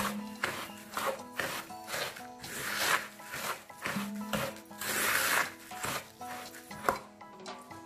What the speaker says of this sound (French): je vais commencer d'abord à mélanger les cacahuètes avec biscuits